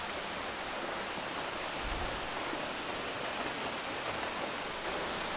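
Mae Sapok Waterfall in Chiang Mai, Thailand, cascading down a broad rock face as a steady, dense, continuous roar of rushing water heard close by.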